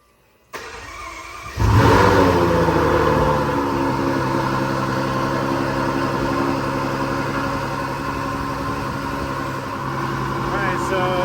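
A Ferrari FF V12 cranks after a short click, catches with a loud rising flare, then settles into a steady, close idle that swells slightly near the end, following repair of a faulty intake cam sensor.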